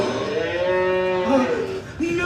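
A cow named Milky White, voiced on a stage during a spring musical, gives a loud, close, sustained moo with a rising then falling pitch that carries to the end.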